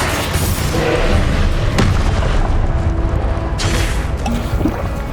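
Confringo explosive spell cast in a video game, heard as dense, loud booming blasts that fill the clip with rumbling bursts and a sharp crack near the middle.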